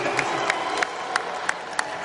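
A large NFL Draft Day 3 crowd in Cleveland roars in a broad, distant wash, with regular rhythmic bursts of clapping or chanting rising out of the noise.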